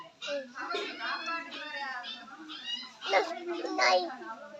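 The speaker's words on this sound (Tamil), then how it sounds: "ஓ நாய்க்குட்டி கத்துதா" A puppy whines and yelps in a series of high, wavering cries close by, with a few short pauses between them.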